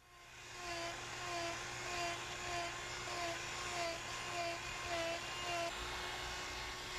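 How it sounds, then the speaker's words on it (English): A die grinder fitted with a wood-cutting bit carves a clamped softwood round block, its high motor whine holding steady with slight pulsing as the bit bites, close and continuous. "This die grinder is most commonly used in the metalworking trades. However, with special bits for wood, it cuts quite efficiently."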